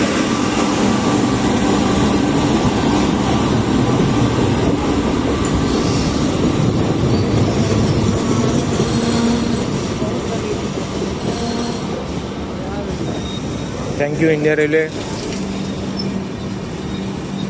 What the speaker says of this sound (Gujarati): ફાઇનલી આટલું જલ્દી કામ કરીને તમે ટ્રેનને ફરીથી ટ્રેક ઉપર ચાલુ કરી દીધું